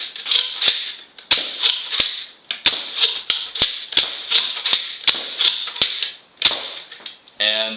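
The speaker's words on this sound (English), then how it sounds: "that's me firing reasonably slowly, but I'm pretty sure those all got off at about a dart a second" A homemade foam dart blaster fires slowly at about one dart per second, each shot a sharp, loud snap in an uneven series of roughly fifteen, ending with a brief rattle.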